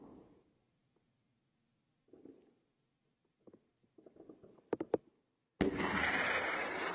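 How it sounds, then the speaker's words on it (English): An artillery round in the Ukraine war flies over and bursts in the distance, heard as a loud, sudden rushing roar at the end that follows faint scattered thumps and rustles. "We hear another round flying over, and we'll be seeing it explode in the distance here in a second."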